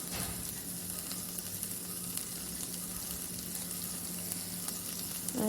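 French fries frying in hot oil, giving a dense, continuous hiss and crackle at close range with a low steady hum underneath and no speech.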